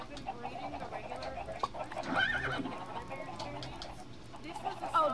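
A horse in a video game neighs with a rising whinny midway through, amid light hoof clip-clops and other game sounds, while a person talks over it.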